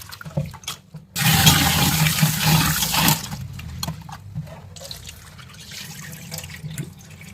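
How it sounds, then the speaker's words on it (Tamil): Raw white rice being rinsed by hand in water in a kitchen, with a burst of loud splashing and swishing in the middle, then quieter sloshing and trickling; no one speaks. "இதை பச்சரிசியை இதை ஒரு தண்ணி ரெண்டு தண்ணி கூட ஊற்றி நீங்கள் இதை கழுவிக்கலாம்"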